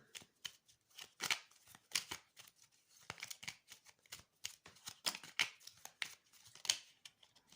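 Tarot cards shuffled by hand in quick, papery riffling bursts with brief pauses between them, close and fairly quiet, with no talking over it.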